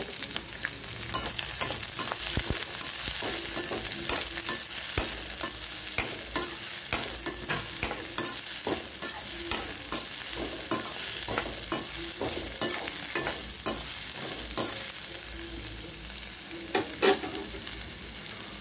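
Onion, green chilli and curry leaves sauté in a pan for carrot rice, giving a steady, close sizzle broken by frequent scraping stirs of a spoon; no one speaks.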